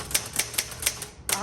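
Keys strike on a 1964 Olivetti-Underwood Studio 44 typewriter in a quick, close run of sharp clacks at a steady rhythm, with a faint voice underneath.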